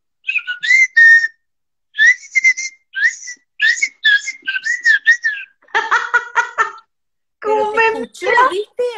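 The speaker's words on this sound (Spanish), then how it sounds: "¿Quién te está chiflando?" Someone whistles a series of short, warbling melodic phrases up close and loud, then voices talk briefly in between.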